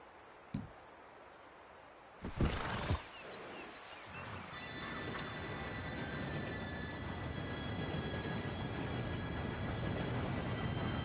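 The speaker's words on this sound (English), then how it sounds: "Train should be here any minute now" Train arriving in Red Dead Redemption 2: a couple of sharp knocks, then a growing rail rumble with wheel squeal and hiss building steadily toward the end, no speech.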